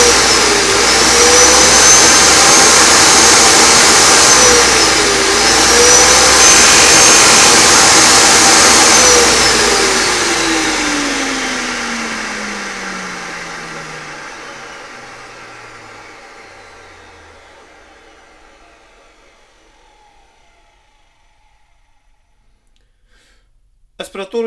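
A repaired vacuum cleaner, fixed after failing to start once washed, runs loudly with a steady motor whine, then is switched off and winds down with a long falling pitch into silence, followed by a brief clatter at the end.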